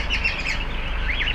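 Birds chirp in short, bright bursts near a home in Anapa, a few quick tweets repeating over a low background hum.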